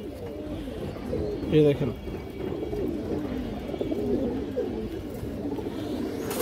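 A white female army pigeon with ring eyes, from a pigeon seller's flock, gives a short, close coo midway through, while someone talks throughout.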